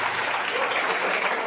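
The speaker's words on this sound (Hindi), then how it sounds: "AK पांडे सर के लिए एक बार ताली बजा दीजिए सब लोग।" Applause for AK Pandey sir from an audience at a motivational talk, a continuous even wash of many hands clapping together, steady in volume throughout.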